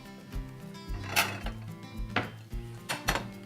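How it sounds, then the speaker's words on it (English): A fried egg lifted from a pan onto a plate, with several sharp clinks and scrapes of a utensil against cookware over a low background, no speech. "we'll get it out of the pan, transfer it to our plate"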